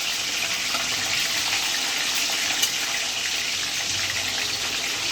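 Chicken pieces frying in hot oil for Korean-style double-fried chicken, a steady dense sizzle and crackle held close and even throughout, with no talk.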